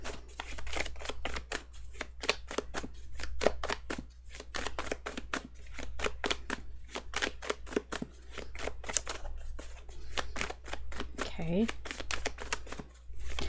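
Rapid, continuous riffling and snapping of tarot cards being shuffled close by, dozens of quick crisp clicks, with a brief spoken word partway through.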